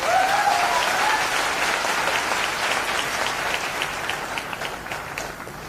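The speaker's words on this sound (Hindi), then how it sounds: "इसके लिए ताली होनी चाहिए।" Audience applause at a business success talk, steady dense clapping from a large crowd filling the whole stretch at even loudness, with no voices.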